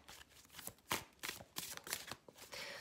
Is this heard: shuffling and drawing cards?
yes